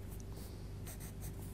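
Blender or burnisher pencil drawing mortar lines on paper, heard as faint, soft scratchy strokes in short repeated passes against a quiet background.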